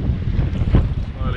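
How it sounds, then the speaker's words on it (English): Wind buffeting a fishing boat at sea off Rottnest Island near Perth, a steady rushing roar with microphone buffeting and faint water slaps, no speech heard. "Wind's slowly dropping off."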